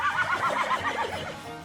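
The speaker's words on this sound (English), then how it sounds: "This is my horse, Merlot" Merlot, a full thoroughbred gelding standing 16.1 hands, lets out a close, loud whinny with a quavering, rising-and-falling pitch that fades out after about a second and a half.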